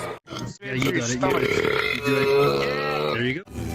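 Long, loud, drawn-out belches, several in quick succession over a few seconds, each rumbling and voiced, from a compilation of burps and belches.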